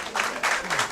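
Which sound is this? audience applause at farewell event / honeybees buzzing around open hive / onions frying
audience applause at farewell event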